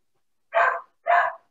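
Two sharp dog barks, evenly spaced about half a second apart, ring out close and loud over a quiet online meeting with no talk.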